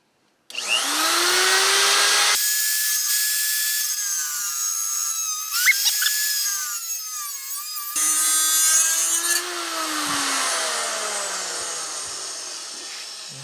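A power tool whines loudly as it trims a motor mount brace for a WR250E motorcycle, its pitch shifting as it bites into the metal, running nearly continuously after a short silent start.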